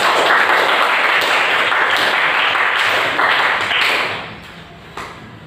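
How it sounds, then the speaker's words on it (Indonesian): Classroom students applauding together during a chemistry lesson, a steady burst of clapping that fades out toward the end. "Aplaus untuk semua ya."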